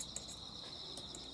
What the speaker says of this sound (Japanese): コオロギかな、これ。 どっちなんだろうね。